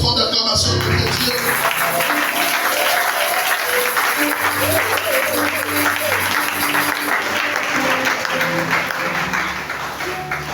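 A congregation at a prayer vigil applauds as an acclamation to God, with loud, continuous clapping and cheering mixed with music tones that lasts the whole time and eases slightly at the end.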